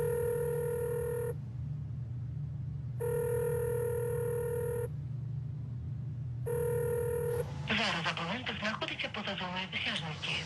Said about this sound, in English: At least right now, I can call her.